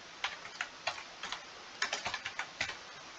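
Keys tapped on a computer keyboard to enter a web address in a browser, a run of light, close clicks in uneven bursts with short pauses, no voices.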